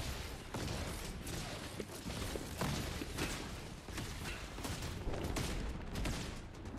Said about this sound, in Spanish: No sé de dónde me está disparando